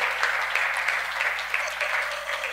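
Congregation applauding at a French-language church service, a steady dense wash of clapping from a crowd that carries on evenly and fairly loud throughout.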